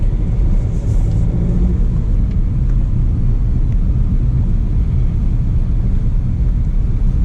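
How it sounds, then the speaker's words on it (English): Cabin of a Stage 1 tuned Suzuki S-Cross on the move, a loud, constant low road and engine rumble filling the interior without letup. "This is the first time I'm driving the S-Cross."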